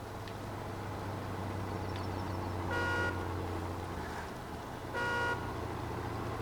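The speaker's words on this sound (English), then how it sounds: "We are honking our way to freedom." Truck horn honking in SnowRunner, sounding in two clear sustained blasts about two seconds apart over a steady low idling engine drone.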